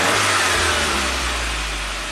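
A 1993 Saab 9000 CSE Turbo engine runs at a raised 1200 rpm idle, giving a loud, close, steady low rumble with a slight drop in level toward the end and no talking.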